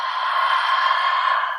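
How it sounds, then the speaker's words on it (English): A steady breathy exhale pushed out through the mouth during a yoga practice, a continuous airy hiss lasting well over a second, close and moderately loud with no pauses. "So that exhale through the mouth, it sounds like this."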